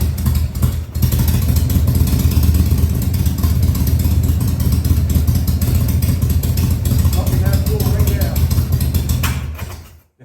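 A 2000 Harley-Davidson Sportster 1200C, first started in six years, runs loud and close with a steady rumble and slight throttle variation, then cuts off at the end.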